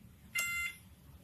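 A two-way remote alarm fitted to a Yamaha Nmax 155 scooter gives a single short, bright electronic beep, close and clear, over a quiet background hum.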